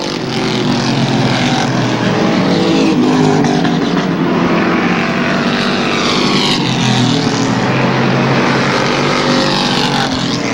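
Race cars roar in single file down the backstretch of the Airborne half-mile oval on the final lap, a loud, continuous engine drone with rising and falling pitch as cars pass, no talk.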